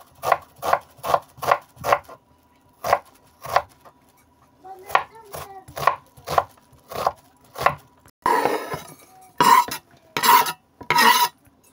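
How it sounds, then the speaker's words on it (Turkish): Sharp, rhythmic knife strokes chopping onions on a cutting board, loud and close, in quick clusters with short pauses and a denser run of hard chops near the end, no talking. "Şimdi soğanları doğrayacağız."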